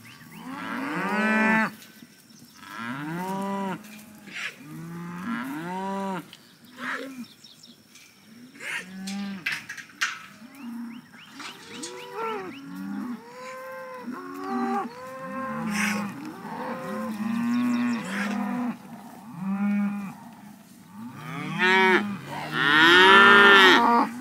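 Bred cows moo repeatedly on a farm, with many overlapping low, drawn-out calls at varying distances, some loud and close, continuing steadily with faint bird chirps in the background.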